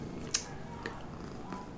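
Cat purring softly close by, with a few faint short sounds that may be small meows, quiet and low over a near-silent background.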